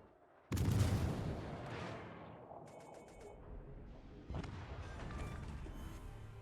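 Big warship guns in the naval game World of Warships Legends fire a heavy, booming salvo that rumbles and fades, followed by a second, softer burst of fire and lingering battle noise.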